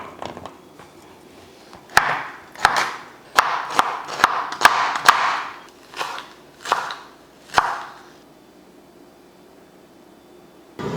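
Vegetables being chopped with a knife on a board for a large batch of vegetable rice, a steady run of crisp, close thuds in quick bursts, then a few spaced cuts before falling quiet.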